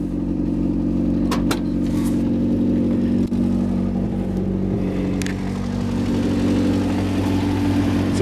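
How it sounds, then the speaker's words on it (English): A Toyota 20R four-cylinder engine runs under the open hood of a motorhome, a steady close whirring hum with a few sharp clicks and brief knocks over the drone. "So under the hood we have a Toyota 20R"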